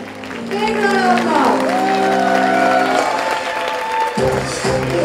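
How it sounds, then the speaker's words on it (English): An audience at a children's ramp-walk pageant claps and cheers, warm steady applause filling the hall while music plays underneath. "Round of applause for them."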